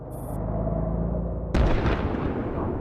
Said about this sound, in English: Whoa, explosions!